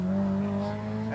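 Electric motor of a 2000mm HSDJETS-182 Cessna RC airplane held at half throttle, a loud, steady droning whine with a constant pitch throughout.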